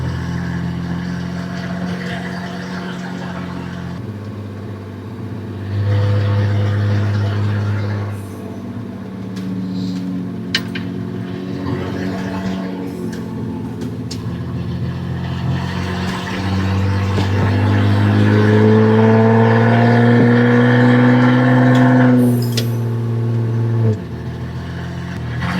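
A 1974 Volvo 164e with a redblock engine and loud aftermarket exhaust revs and accelerates nearby. Its deep droning note climbs through several gear pulls and swells louder toward the end.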